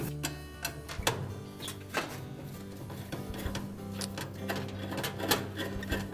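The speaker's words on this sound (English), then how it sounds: "Now the thermostat ones, we can just remove the screws for the thermostats." Screws being removed from the thermostats of a Frigidaire dryer during heating element replacement, a series of faint irregular metallic clicks and ticks over a low steady hum, with no talk.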